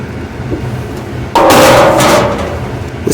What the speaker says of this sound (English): scrape this pastry cream into the bowl of a stand mixer here